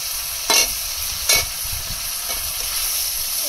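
Chopped onion sizzles loudly in oil left from frying fish, a steady close hiss broken by two sharp stirring scrapes early on.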